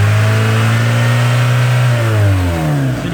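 Mazda MX3 engine held at a steady fast idle, then the pitch sags as the revs settle lower near the end. The low hum is close and even, with no talk over it.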